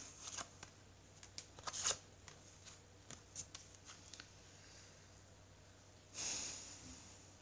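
Tarot cards being handled and shuffled during a reading, soft papery riffles and slides in several brief bursts, with one longer swish near the end, close and quiet over a faint steady hum.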